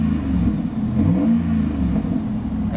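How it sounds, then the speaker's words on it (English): A 2007 Dodge Ram 1500 SLT Quad Cab 4WD pickup engine with 163,000 miles revs up, a deep steady rumble rising and holding, loud and close with no talk. "Revs up nicely, it idles smoothly."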